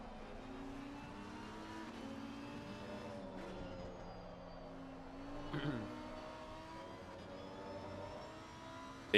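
A Lamborghini GT3 race car in Assetto Corsa Competizione racing at Spa-Francorchamps during an endurance race gives off a steady, moderately loud engine drone, its tone gliding up and down as it runs through gears and corners.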